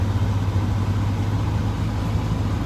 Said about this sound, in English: I love the louder exhaust note. It just feels so much better, sounds so much better.